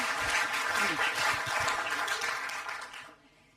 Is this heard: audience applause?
yes